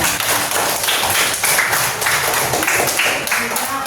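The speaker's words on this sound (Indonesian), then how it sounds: "Silakan beri aplaus untuk kelompok kedua" A classroom group applauds the second group, with broadband clapping that runs steadily through the clip and stays loud and close, and talk mixed in.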